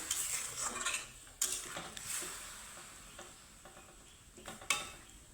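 A spoon stirs spicy vegetarian cauliflower curry in a pan with scraping strokes and sharp clinks against the metal over a faint, light sizzle. The sound is quiet and close, with no talk.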